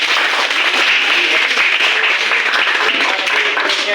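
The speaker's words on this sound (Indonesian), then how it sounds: "Tepuk tangan dulu." Loud, dense applause fills a classroom after a student group presentation, many hands clapping steadily and evenly for several seconds without a break.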